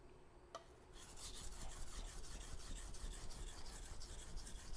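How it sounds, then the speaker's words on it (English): A kitchen knife is honed on a second whetstone, a faint, rhythmic rasping scrape repeating in quick strokes after a brief quiet start, close up with no voices. "I'm sharpening here on the second stone."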